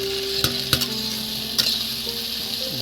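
Pre-fried potatoes hit a pan of sizzling spice masala, a close, steady frying hiss broken by a few sharp scrapes and clinks as they are stirred in, with no talking.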